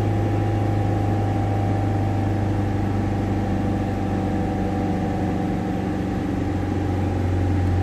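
Ford Focus 1.6 TDCi diesel engine idling steadily during DPF regeneration, a constant low hum with a faint mechanical drone that stays unchanged throughout.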